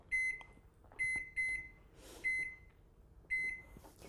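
A microwave oven hums quietly while running, and a series of short, high electronic beeps sounds in uneven groups of one or two over about four seconds, close and clear with no talk.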